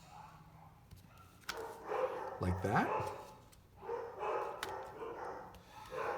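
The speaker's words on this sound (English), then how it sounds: "there are some fireworks going off, so the dogs are going a little cuckoo" Dogs barking and yipping in a home, agitated by fireworks going off outside, with several bursts of barks breaking through a person's ongoing talk during crafting.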